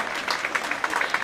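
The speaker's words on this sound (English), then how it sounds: "You can clap too." Applause from an audience at a legislative day event, steady broadband clapping of a modest crowd lasting about a second, moderately loud and without talk over it.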